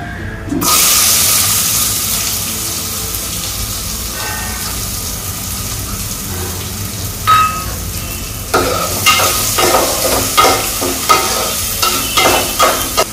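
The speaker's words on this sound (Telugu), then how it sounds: "ఒక 2 minutes లో ఫ్లేమ్లో పెట్టుకొని ఆనియన్స్ ఫ్రై చేసుకోవాలి" Onions frying in a pan over a low flame while making a spinach-onion dish, giving a steady sizzle throughout with clattering stirring scrapes building up toward the end; no one speaks.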